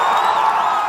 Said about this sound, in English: People are cheering.